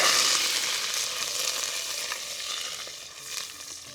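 Steady, crackling sizzle of curry leaves frying in hot oil with tempering seeds, close and continuous, with a few sharper pops and stirring scrapes.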